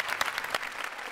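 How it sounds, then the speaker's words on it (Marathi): A studio audience at a Marathi comedy show claps for a film director in a brief burst of applause, fairly quiet, with a couple of sharper individual claps standing out. "एकदा जोरदार टाळ्या त्यांच्यासाठी झाल्या पाहिजे."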